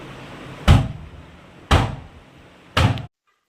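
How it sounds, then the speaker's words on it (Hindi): A house door is slammed shut three times in a row, each a loud close bang with a short decay, spaced about a second apart, with a quiet room hum in between and no speech. "दरवाजा पटक के"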